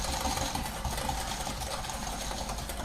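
An electric whisk beats egg yolks with sugar for chocolate pancake batter, giving a steady, continuous motor whir at moderate volume close by, with no speech.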